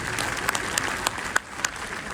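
An audience applauds at a business plan presentation, a short burst of dense, steady clapping from a crowd with a few sharper individual claps standing out.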